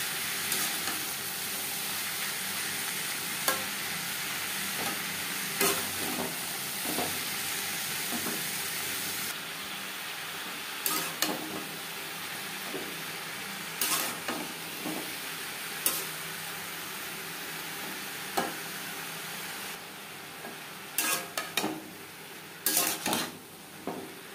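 Ridge gourd (chichinga) frying with onions in a pan: a continuous sizzle runs throughout, with intermittent scrapes and clinks of a utensil stirring and knocking against the pan.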